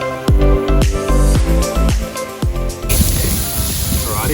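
Marinated baby octopus tentacles and seafood poaching in melting butter on a barbecue grill give off a steady, close sizzle and spray, with sharp clanking taps of utensils in the first half before the frying hiss takes over.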